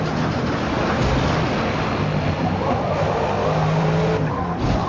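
A car in a racing video game skids off the road, tires hissing and squealing over a dense, loud engine roar that holds steady for several seconds.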